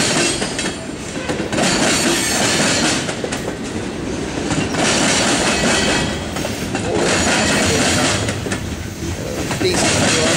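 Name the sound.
CSX freight train Q464 passing on rails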